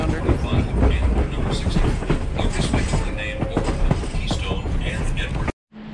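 Riding aboard the 1880 steam train in the Black Hills of South Dakota, carriages rumble and clatter along the track in a loud, continuous rhythm, with voices talking under it before the sound cuts off abruptly.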